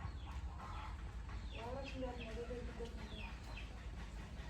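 Frightened country chickens cluck and squawk in short agitated bursts while being caught, fairly faint and mixed with background noise and people talking.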